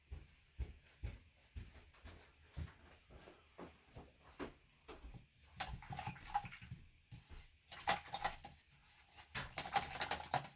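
A paintbrush is rinsed in water, giving faint, quiet dabbing and tapping swishes in an irregular rhythm. The swishing grows busier and splashier toward the end.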